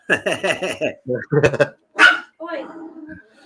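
A dog barks and yips in a rapid series of short barks, close and loud, with a higher whine-like yelp and softer trailing sounds, as people talk in the background.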